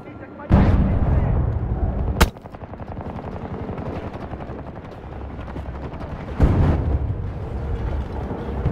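Gunfire in the video game Battlefield 2042, on the Valparaiso map in hardcore mode: two sharp loud shots frame a stretch of rapid rattling automatic fire, with battlefield rumble underneath.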